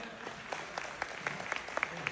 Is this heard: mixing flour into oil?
no